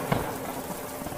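Heavy rain falls in a steady, soft hiss with faint drops, quiet and continuous for about a second.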